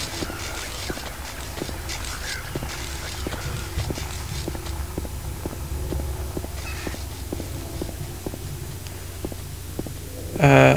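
Footsteps in the video game Silent Hill 2 fall in a steady, evenly spaced rhythm over a low ambient drone, moderately loud, with a brief burst of noise at the end.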